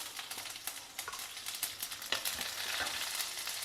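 Mustard seeds and chopped green chillies fry in a couple of spoons of oil in a kadai, with a steady close sizzle and scattered crackling pops from the seeds, and no talking.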